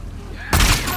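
A single loud gunshot lands a headshot in The Last of Us Part 2, bursting out suddenly after a quiet moment and ringing on briefly.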